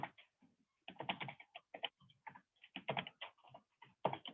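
Fast bursts of computer keyboard typing while writing Java code, clicky keystrokes close and distinct, pausing briefly between runs of keys.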